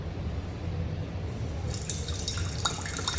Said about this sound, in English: So you get that nice steady drip